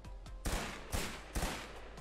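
Video game gunfire: several sharp, loud shot bursts spaced about half a second apart, with fainter pops in between, heard with no talking.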